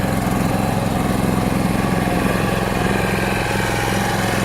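H 130 Pro hazelnut harvesting machine running in mud, a loud, close, steady engine drone with a rapid mechanical throb that never lets up, no talking.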